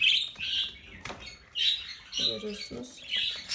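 Budgerigar chicks in the nest give bursts of thin, high chirps and squeaks, close by and intermittent, with someone speaking briefly over them.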